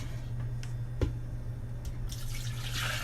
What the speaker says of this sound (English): That hot water from the spaghetti, I'm going to put it in my little blender.